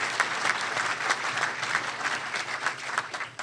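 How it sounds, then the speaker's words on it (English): An audience at an Illinois Tollway meeting gives a steady round of applause, many hands clapping densely at moderate volume without a break through the whole stretch. "Give him a round of applause."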